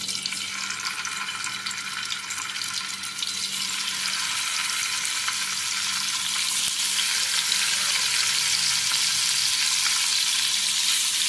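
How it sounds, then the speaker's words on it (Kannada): Paneer cubes sizzle and crackle steadily in hot oil for a mix of mutter paneer masala, a dense, continuous frying hiss that stays loud and even with no voices over it. "ಫ್ರೈ ಮಾಡಿದರೆ ಟೇಸ್ಟ್ ಇರುತ್ತೆ ಪನ್ನೀರಿದ್ದು"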